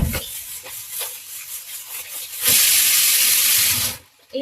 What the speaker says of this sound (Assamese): তো তাৰ কাৰণে কুকাৰে ফুচেল মাৰি আছে